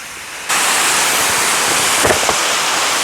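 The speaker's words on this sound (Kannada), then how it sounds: "ಆ ನೀರು ಸೌಂಡ್ ಕೇಳಿಸ್ಕೊಳೋದಕ್ಕೆ ಒಂಥರ ಖುಷಿ." Water pours down the waterfall at Srinivas Sagara in Chikkaballapur, a close, loud, continuous rushing roar that swells in abruptly and then holds steady, with no talking.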